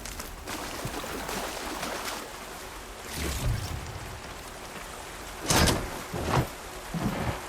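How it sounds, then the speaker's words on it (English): Steady rain with occasional thunder rumbles in the video game Horizon Forbidden West, a constant wash of falling water broken by several louder bursts toward the end, with no talking. "It's starting to rain."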